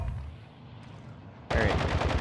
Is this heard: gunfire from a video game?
yes